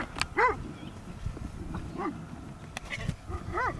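Several dogs at a Cluj-area farm in Florești bark in short, rising yelps and howls at intervals, fairly close and moderately loud over a noisy outdoor background.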